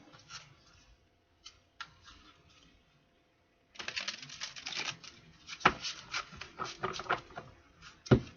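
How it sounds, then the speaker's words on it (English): Tarot cards are shuffled in quick riffling bursts, faint at first, then a denser flurry of papery flicks and taps close by. "One more shuffle here, Spirit"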